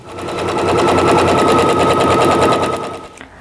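Sewing machine stitching a quilt block seam for a butterfly quilt block, a fast steady rattling hum of needle strokes that runs continuously before stopping abruptly near the end.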